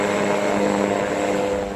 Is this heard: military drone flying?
yes